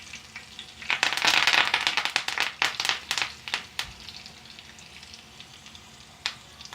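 Urad dal, cumin seeds, green chili and curry leaves hit hot oil with a burst of loud crackling and sizzling that settles into scattered pops and a softer fry.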